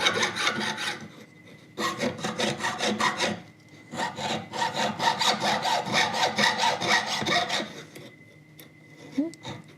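Hand filing of metal at a jeweller's bench during enamel work, heard as close, loud rasping strokes in bursts with short pauses between runs.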